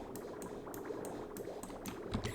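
Water running through pipes in Oxygen Not Included, a soft continuous bubbling liquid flow with no talking, faint and steady for its whole length.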